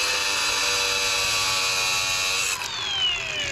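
Grinder cutting down metal on a Grom clone motorcycle near the chain guard, a loud continuous high whine up close that shifts pitch and dips near the end as the tool eases off.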